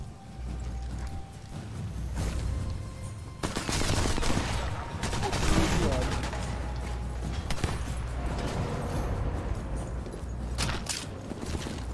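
Gunfire in the video game Sniper Elite 4, a few sharp reports over a steady layer of mechanical game sound and ambience, with faint talk mixed in.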